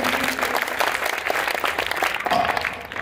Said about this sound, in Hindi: एक बार सभी जोरदार तालियां बजाएंगे उनके लिए।